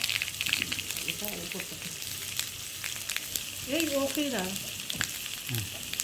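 Mustard seeds, fenugreek, chili and curry leaves dropping into hot oil, a steady hissing sizzle with faint crackles, while someone talks intermittently over the frying.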